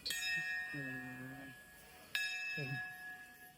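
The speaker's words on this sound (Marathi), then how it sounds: "तू वाजवणार घंटी? घंटी वाजव ना इकडे." Two clear metallic strikes of a hand bell at Birdev temple, Pattankadoli, each ringing out with long sustained tones, a voice chattering between and after them nearby.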